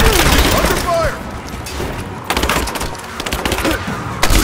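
Gunfire and explosions in the action video game Rise of the Tomb Raider, with bursts of shots and booms near and far, under shouted voices of combatants.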